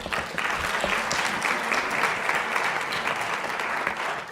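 Sustained applause for students at an HBCU pre-law hall of fame ceremony, a dense steady clapping from a seated crowd that holds at an even level throughout, with no voices over it.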